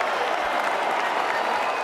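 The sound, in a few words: crowd cheering at basketball game in broadcast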